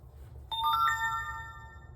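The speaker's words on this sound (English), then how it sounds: "I will receive a chime notification on my phone" A Grandstream GXV3470 IP phone sounds a short chime notification, a quick rising sequence of bright electronic tones that ring out and decay clearly against a quiet background.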